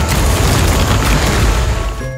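A giant swollen red corpse bursts in a sci-fi monster film, a loud, dense roaring blast that rumbles continuously for about two seconds before cutting off abruptly.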